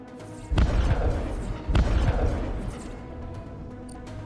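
Two deep, booming missile-hit explosions from the space strategy game Breachway, a little over a second apart, each a heavy thud with a rumbling tail that fades out, loud and close with no talking.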